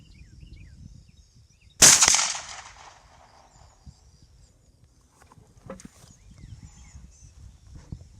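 A single sharp crack of a highly accurate slug air gun fired outdoors, loud and close, with a ringing tail fading over about a second, then quiet outdoor ambience with faint thumps.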